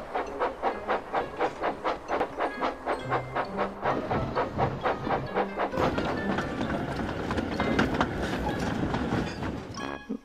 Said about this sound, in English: Ash was coupled up to his train, and he set off to the transfer yards.